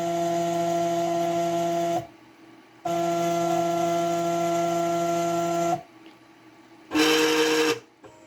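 Stepper-driven axes of a Mach 3 CNC machine whine in steady tonal runs, stopping and starting in three separate moves, the last one shorter and harsher, close and loud with no talk.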